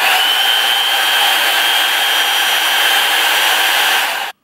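An Amazon Dyson-style dupe hair dryer running on its fan setting gives a loud, steady, close whooshing hum with a high whine. It holds constant, then cuts off abruptly near the end.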